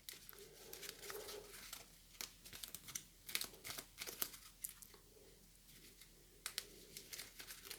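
Event card deck of a Crowbar! The Rangers at Pointe du Hoc board game being shuffled by hand, close and fairly quiet, with a steady run of crisp card riffles and light flicks, no talking.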